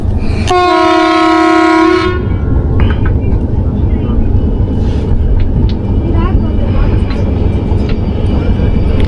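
A Thall Express train's departure horn sounds one long, steady blast lasting under two seconds over a rumbling engine, followed by continued rail noise and a few faint clanks at a station under construction.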